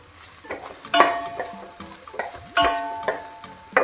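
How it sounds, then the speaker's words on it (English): Onion sautés in a pan for a Goan prawn pulao, a low background sizzle punctuated by several distinct clanks and scrapes of a spoon stirring against the pan, close and fairly loud, with no talking. "You don't have to saute till it is golden brown color."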